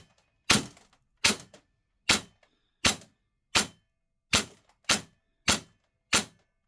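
A Krytac M4 DMR airsoft rifle on HPA firing 0.40 g BBs, nine sharp, evenly spaced cracks ringing out alone in a quiet space.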